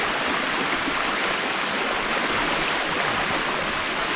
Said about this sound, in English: We're walking in the creek.